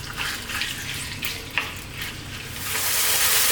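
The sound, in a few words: lamb pieces frying over above-medium heat for siga tibs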